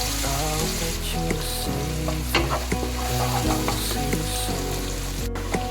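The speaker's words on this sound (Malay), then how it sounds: "Kita tumis sampai dia garing ya." Crab fried with mixed spices sizzles and crackles steadily in a hot pan while being stirred, with scraping utensil clatter throughout and no talking.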